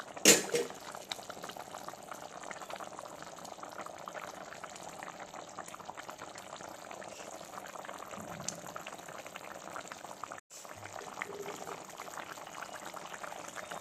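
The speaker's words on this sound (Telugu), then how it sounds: "ఇవ్వండి మరుగుతుంది పులుసు" A pot of tamarind pulusu bubbles on the stove, a soft continuous simmering hiss and gurgle heard close by, with a faint clatter near the start and a brief break late on.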